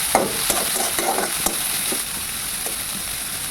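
Onions fry in soybean oil with whole garam masala in a pan, a continuous sizzle broken by several scraping spatula stirs early on, then settling to an even crackle.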